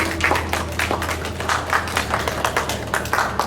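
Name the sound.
applause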